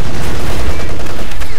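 Dense, loud gunfire in a Company of Heroes 2 battle, a rapid burst of overlapping shots and blasts filling the whole short stretch with no pause.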